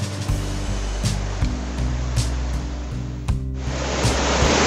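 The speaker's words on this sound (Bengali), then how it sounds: "এই হচ্ছে চিংড়ি ঝর্ণা।" Chingri waterfall on a hill path in Bandarban, Bangladesh, a strong current roaring loud and steady close by, with occasional surging gusts and no voices over it.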